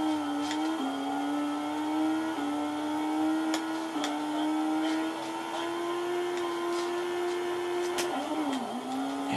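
Rally car engine from the V-Rally 2 video game on the Dreamcast, a steady high whine that holds its pitch with small dips at gear changes, plus a few faint clicks, running continuously without speech.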